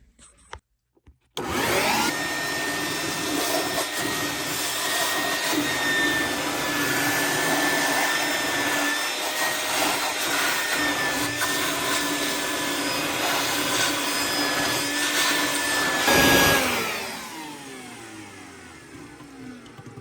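A wet vac sucks water out of a Hartell under-mount ejector pump basin, its loud, steady motor roar running unbroken for about fifteen seconds before winding down near the end.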